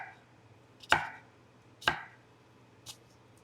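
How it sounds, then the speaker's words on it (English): A knife chops through an onion on a cutting board, three sharp separate thunks spaced about a second apart, the last one softer, close and clear with a faint low hum behind. "we're going to slice our onion."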